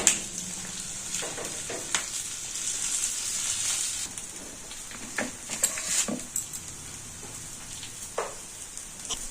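Aloo paratha, a potato-stuffed flatbread, frying on a hot pan, giving a steady close sizzle with scattered crackles and a few soft scraping or pressing sounds throughout.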